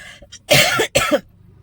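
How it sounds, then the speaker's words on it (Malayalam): A woman suffering from a persistent hacking cough lets out two loud, close, harsh coughs in quick succession, with a faint breath or throat sound before them. "നല്ല കുത്തി കുത്തി ചുമയുണ്ട്"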